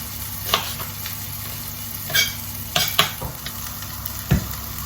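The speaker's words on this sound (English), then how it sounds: "Our onions are cooking over there" Onions sizzle in a pan with a soft, steady frying hiss, broken by several sharp scrapes and clanks of a utensil stirring against the pan, with no one talking.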